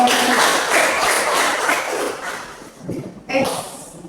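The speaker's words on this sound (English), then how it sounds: "Okay, applause for" Classroom applause after a lesson on force and mass, a burst of dense clapping from a group that fades after a few seconds, fairly loud and close, with a brief voice near the end.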